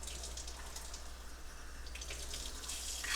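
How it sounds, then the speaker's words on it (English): Tap water runs steadily into a can at a sink, a soft continuous splashing with a low hum underneath. "Put a little bit of water in there to rinse that chicken off."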